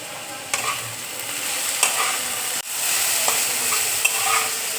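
Potato, chopped carrot and garlic sizzle steadily in hot oil, with stirring scrapes and a few sharp clanks against the pan, close and continuous.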